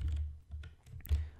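Quiet typing on a computer keyboard, a handful of soft irregular key taps close by over a low background rumble.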